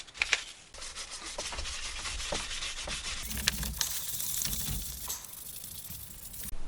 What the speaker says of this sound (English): I'm actually going to start with 1000 grit sandpaper, and basically just go to town on this thing